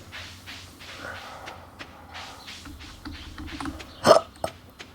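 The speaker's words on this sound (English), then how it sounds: "I have stupidly regular hiccups." A single sharp, close hiccup bursts out loudly near the end, standing alone over a quiet room background with faint broadband noise and no talking.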